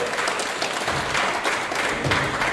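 An audience at a cybersecurity meetup in Minna applauds steadily for a presenter, dense clapping sustained throughout at moderate loudness with no speech over it.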